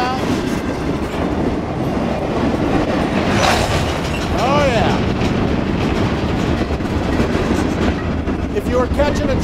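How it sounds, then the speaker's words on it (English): A train at an Amtrak station platform rumbles with steady clatter and a few brief squeals, close and fairly loud, while people speak briefly over it. "They come out onto this landing here and get on the train."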